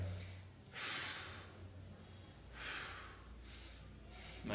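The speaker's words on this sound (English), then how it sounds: "belly is moving and my chest is not when I breathe that way" Slow abdominal belly breaths are demonstrated, each long inhale and exhale rising and fading as a soft airy rush, three breaths in a quiet room, close and gentle.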